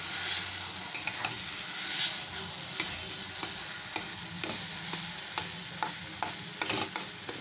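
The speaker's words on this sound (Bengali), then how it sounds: "এইরকমভাবে কষিয়ে নিচ্ছি" Mashed roasted eggplant and egg being sautéed in a pan, with a steady low sizzle and repeated scraping clicks of a spoon stirring the mixture throughout, close and moderately quiet.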